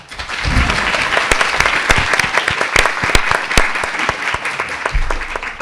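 An audience applauds a biology teacher at a science talk, dense and loud sustained clapping with scattered sharper claps and a brief low thump or murmur near the start and end.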